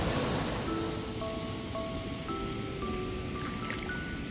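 Double Drive waterfall in Cherrapunji, Meghalaya, a steady broadband roar of falling water heard close up, with faint tonal whistles over the rush.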